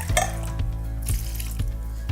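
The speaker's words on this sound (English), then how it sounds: "Let me rinse it." Tap water runs into a sink during rinsing, a continuous splashing stream close by, broken by a few soft knocks and clinks of handling.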